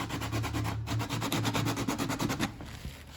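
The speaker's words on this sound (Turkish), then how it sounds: "Tam olarak zımparayla alıştıracağım ben oraya." Steady rapid back-and-forth scraping of sandpaper on the wood of a 1959 carved mulberry bağlama being restored, close and fairly loud, slowing slightly toward the end.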